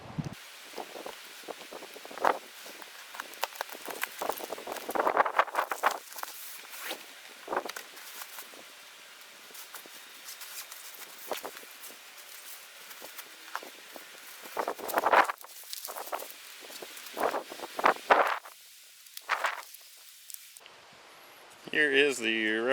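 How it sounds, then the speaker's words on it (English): Gusty wind blows outdoors on a blustery Pacific Northwest day during setup of a canopy sport shelter, rising and falling in rough rustling bursts under someone talking throughout. "It's a windy day in the Pacific Northwest."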